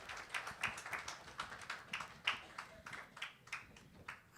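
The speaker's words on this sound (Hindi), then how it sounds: "ताली बजाएंगे" Audience applause of welcome at a spiritual gathering in Greater Kailash, New Delhi: quiet, scattered hand claps with an uneven, sparse rhythm, heard from some distance in a large hall, with no voices.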